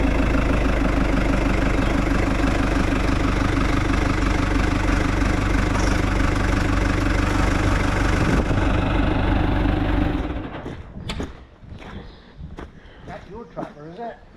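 A New Holland TL90 tractor engine idles steadily with a loud, continuous low rumble for about ten seconds, then cuts off, leaving quieter background knocks and faint sounds.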